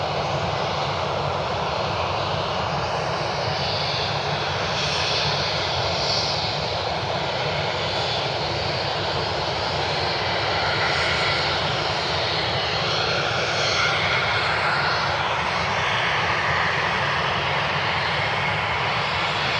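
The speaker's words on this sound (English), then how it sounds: "Got a NetJets Challenger inbound from Belmar, followed by a G550." Business jet engines roar continuously at Cleveland Hopkins airport, a loud, sustained wash of jet noise that swells slightly as an aircraft passes.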